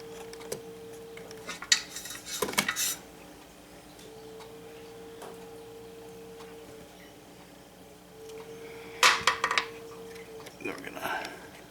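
Wire cutters snip excess copper wire during a Ring Video Doorbell Pro installation, giving two short clusters of sharp metallic clicks several seconds apart, with a faint steady hum and quiet between them.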